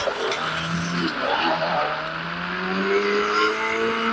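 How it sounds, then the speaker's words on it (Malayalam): A vehicle speeds along in the Indian Bike Driving 3D video game, its engine giving a loud, continuous droning whine that rises and shifts in pitch as it accelerates, with a hint of tire squeal. "വണ്ടിക്ക് നല്ല സ്പീഡൊക്കെ ആയി."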